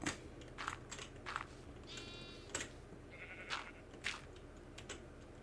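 Sheep in the Minecraft video game bleat several times in short, clear, separate calls, with crunchy blocky footsteps and game sounds scattered between them and no talking.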